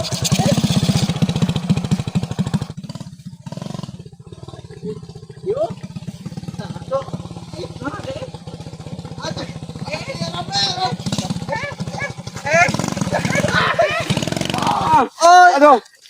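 A motorcycle engine idles and revs loudly up close, rising in bursts toward the end with a rough clattering note, while people talk over it in Sundanese during a riding lesson.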